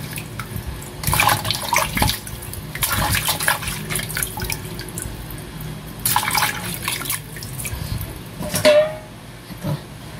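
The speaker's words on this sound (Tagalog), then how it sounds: "basa natin yung karne natin." Running tap water wets raw meat in a kitchen sink, coming in several splashing bursts with drips and quieter pauses between, fairly close and clear.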